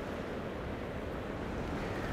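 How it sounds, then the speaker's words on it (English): Ocean waves pull out through a little channel in a steady, dense wash of surf, with a continuous broad rushing roar and no talking. "just watching the waves"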